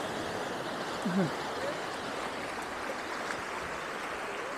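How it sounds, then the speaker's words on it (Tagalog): Sea waves wash steadily onto an English beach as an unbroken, hissing surf noise, with a faint voice briefly heard in the background. "Be careful with the waves, Pinkay."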